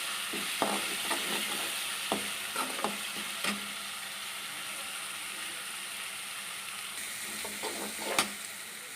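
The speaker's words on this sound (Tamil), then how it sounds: "நல்லா பச்சை வசம் போகிற வரையும் வதக்கணும்" Ingredients for coriander rice sauté in a pan with a moderate, continuous sizzle and repeated scraping clicks of a spoon stirring, including a short burst of stirring near the end. No voices are heard.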